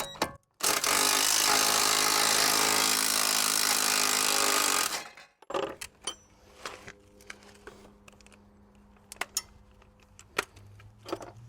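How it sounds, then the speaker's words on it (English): Impact gun spinning off 17 mm bolts while removing the engine from a Mini Cooper S: one loud, sustained buzzing burst of about four seconds, then quieter clinks and clatter of tools and metal parts. "This is where an impact gun really does help."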